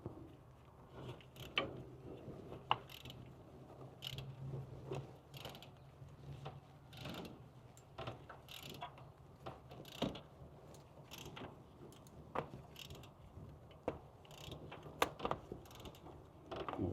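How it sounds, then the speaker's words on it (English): A ratchet wrench clicks in quick, uneven bursts as a spark plug is worked loose on a 2003 Chevy Silverado 2500HD 6.0. The sound is close but faint, with metallic mechanism clatter throughout and no talking. "Let's take our trusty ratchet."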